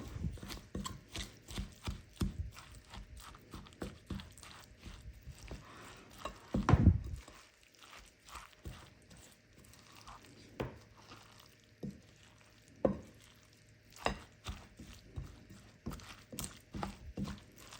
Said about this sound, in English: we're gonna mix our avocado